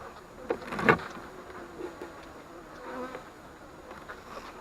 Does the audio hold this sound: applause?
no